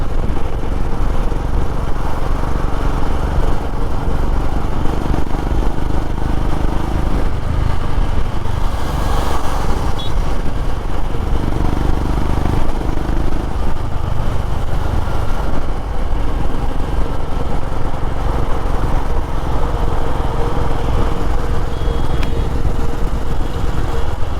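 A Royal Enfield Himalayan motorcycle ridden on roads near Tumkur drones steadily with a continuous engine note and wind rush, loud and unbroken throughout, with no talk.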